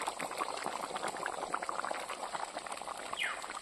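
Mutton curry gravy boiling after water is added, cooked outdoors in a village forest setting: a constant close bubbling simmer with dense small pops and gurgles, steady and unbroken.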